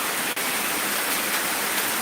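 Steady broadband hiss of rain falling around a village house in Sicini, Gowa, continuous and even throughout with no voices.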